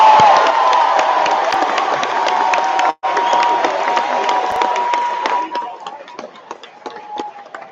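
A school assembly audience applauds and cheers loudly for an eighth-grade student, with dense clapping and shouting sustained for several seconds before tapering off into scattered claps.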